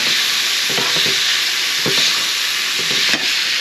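Chicken for fajitas frying in a pan over a high flame, a loud continuous sizzle with occasional soft stirring knocks, close and alone.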